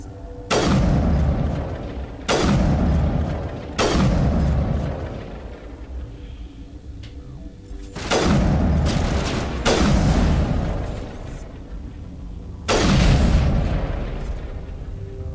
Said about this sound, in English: Okay, you guys are using shotguns